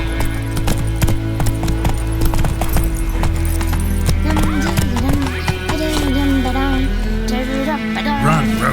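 Roach, the horse in The Witcher 3, gallops with fast, steady hoofbeats that carry through the whole stretch, joined by whinnies and snorts near the end, over game music and voices.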